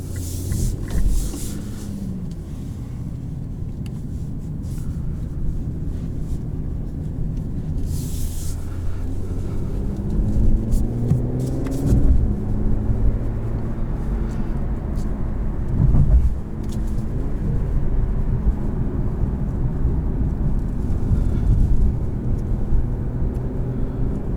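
Cabin sound of a 2021 Infiniti Q50S Red Sport driving and accelerating, a steady low engine and road rumble with rising tones as speed builds, heard from inside without talk.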